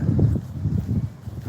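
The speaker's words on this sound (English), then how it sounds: "It's very windy here." Low, rumbling wind buffeting a nearby microphone in uneven gusts, loud and continuous.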